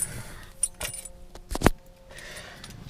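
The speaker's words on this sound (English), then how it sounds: "Get the keys out." Car keys jangle near at hand beside a 2015 Ferrari 458 Italia, a few brief metallic rattles with one sharper clink near the middle, set against quiet background.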